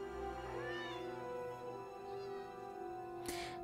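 Cats meow in The Elder Scrolls Online: Elsweyr, several short in-game mewing calls over a steady bed of game music and ambience.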